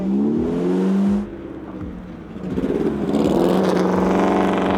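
A replica F1-style car with an engine running rough and breaking up, giving uneven revving with a drop and then a sputtering climb over about five seconds, close and loud with no talking.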